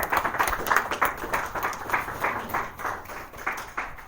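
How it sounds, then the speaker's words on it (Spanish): A church congregation claps steadily throughout, a dense patter of many hands with a few louder individual claps, moderately loud and with no talking over it. "Denle un aplauso a Cristo"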